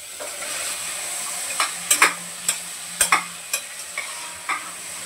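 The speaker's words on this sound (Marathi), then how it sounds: "फ्रीजमधलं थंड आहे म्हणून जरासं परतून घेते" Cooked kabuli chickpeas being sautéed in a pan over high gas heat, a steady close sizzle broken by repeated sharp spoon scrapes and clinks against the pan.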